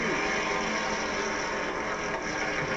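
Street stock race cars from 1990 pull away together at the start of a race at Bridgecity Speedway, a dense, continuous roar of several engines that stays loud and unbroken throughout.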